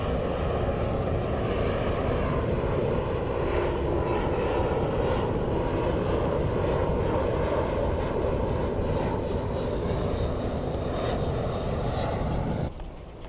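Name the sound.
airplane engines near Faro airport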